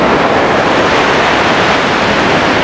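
Loud, dense roar of sea waves at a spot where the ocean mixes with a river mouth, a continuous broadband wash that stays close and steady throughout with no talking.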